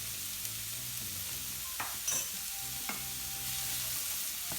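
Tomato puree is stirred into a hot frying pan, a soft continuous sizzle with a few utensil knocks and scrapes against the pan, close and fairly quiet with no talk.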